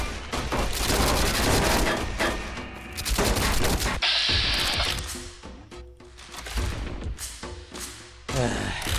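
Rapid bursts of video-game gunfire in Fallout: New Vegas, loud and close, with clustered shots and thumps running through most of the stretch and a brief steady tone in the middle.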